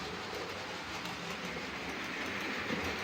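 A model train rumbles steadily along its track, a continuous rolling clatter at moderate volume with no voices.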